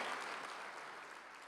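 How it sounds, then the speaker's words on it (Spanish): Church congregation clapping at a sermon, a faint, steady wash of applause that fades slightly over its brief span. "Dale un fuerte aplauso."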